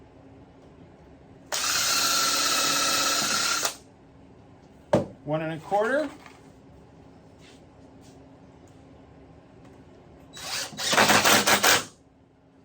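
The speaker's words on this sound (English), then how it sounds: "Drill it out." A power drill whines steadily for about two seconds drilling wood for a picnic table, then again briefly near the end, with a short spoken phrase and clattering in between.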